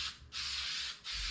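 Short bursts of aerosol glue hiss from a spray can onto a Yamaha XS650 motorcycle seat, two quick hissing sprays separated by a brief gap, close and fairly soft.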